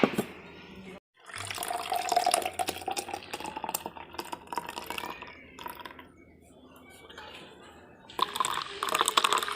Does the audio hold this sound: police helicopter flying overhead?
no